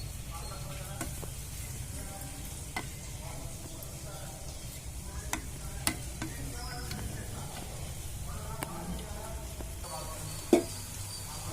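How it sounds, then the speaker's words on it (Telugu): Gulab jamun balls frying in oil over a medium flame, a steady sizzle running throughout with a few faint clinks and stirring sounds, moderately loud and close, and no talking. "మంట మీడియంగా పెట్టుకొని వేయించుకున్నామండి"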